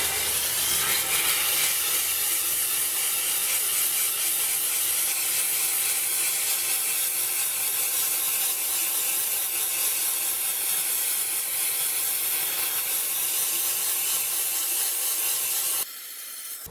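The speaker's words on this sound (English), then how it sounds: "So this is what happens with just the steamer alone." A VX5000 steamer blasts inside the wheel barrels of a Mustang Shelby GT350R, a loud continuous close hiss of steam spray that holds steady before cutting off near the end.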